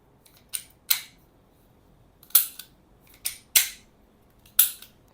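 A Taurus G2C 9mm pistol is handled, with sharp metallic clicks and clacks in uneven pairs as the magazine release is pressed, close and loud against near silence.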